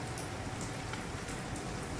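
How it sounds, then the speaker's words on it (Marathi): Rain falls steadily, a constant soft hiss of drops pattering on a surface, fairly quiet and unbroken throughout. "पाऊस चालू आहे"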